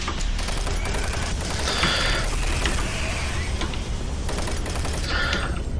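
Gunfire and weapon mechanisms in the video game Doom 3, with rapid bursts of shots and metallic clicking and ratcheting sounds, loud and dense over a constant rumbling game background, with no talking.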